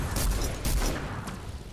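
Rapid Fortnite gunfire crackles in quick bursts, a few sharp volleys with short gaps between them, fairly faint and set against background game sounds.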